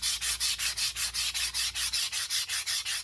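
Sandpaper rubs back and forth over painted wood to distress a patina finish, about fourteen even, rhythmic strokes close up, with no talking.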